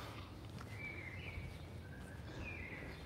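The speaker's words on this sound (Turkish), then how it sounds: "Kuş sesleri ovalara yayılır." Faint birdsong with a few thin whistled phrases drifting over a steady low outdoor rumble in Montmartre, Paris, fairly distant.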